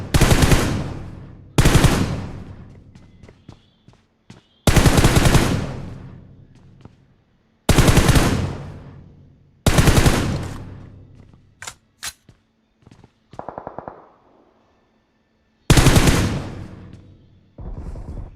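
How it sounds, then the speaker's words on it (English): Esports video game gunfire comes in sharp bursts of rapid automatic shots, each burst decaying quickly, separated by brief gaps with a few scattered single shots and clicks. "After all of this shooting that Kage is doing"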